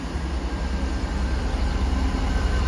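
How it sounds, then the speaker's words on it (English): A train rolls into Oxford station bound for the sidings to clear the platform, a steady low rumble of wheels and engine on the rails, fairly loud and continuous with no talk. "Here comes the train that's going to go into Oxford sidings to clear the platform."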